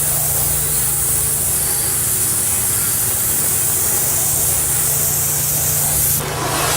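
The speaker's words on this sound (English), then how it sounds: "Just lightly spray it in there." Airbrush spraying light gray paint, a close, steady hiss that runs unbroken for several seconds and then cuts off.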